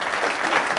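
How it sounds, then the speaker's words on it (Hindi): A brief burst of dense, loud audience applause for a young musician on a parent-children talk show, steady clapping throughout. "सबसे पहले इनके लिए जोरदार तालियां"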